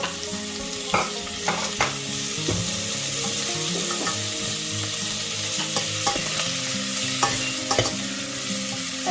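Onions and tomatoes sauté in a pan for a mutton and lentil meal, sizzling steadily up close while a utensil repeatedly scrapes and clinks against the pan.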